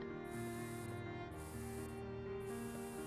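Spray paint hisses in short repeated bursts, about three sprays, from an aerosol can in the painting video game Passpartout, heard faintly over a soft, steady musical background.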